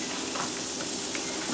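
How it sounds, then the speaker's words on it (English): Onions sautéing in melted butter in a pan give a steady, soft sizzle throughout, close and even, with a few faint pops and no talking. "I put some butter in the pan, adding some onions because I like to saute stuff."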